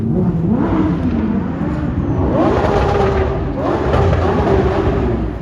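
A Porsche Cayman GTS 4.0 engine revs hard after a downshift, loud and continuous with rising and falling pitch sweeps as the revs climb and settle, heard close from inside the car.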